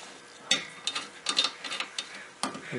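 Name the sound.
ratchet tightening 19mm suspension strut to knuckle bolt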